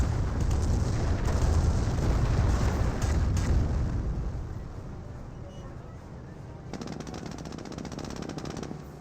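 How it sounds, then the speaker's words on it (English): Heavy rumbling artillery explosions from a creeping barrage in the video game Company of Heroes, a dense roar of overlapping booms that gradually fades to a quieter distant rumble, with a brief burst of rattling gunfire near the end. "he can bring some more creeping barrages. That's gonna be a lot of damage"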